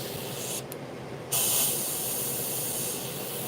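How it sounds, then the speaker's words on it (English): An airbrush hisses steadily while spraying paint for a tiger painting, with a short pause and then a slightly louder burst that carries on continuously at close range. "And this airbrush is amazing."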